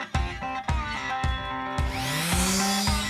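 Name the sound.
electric sander with high grit pad sanding varnished wooden furniture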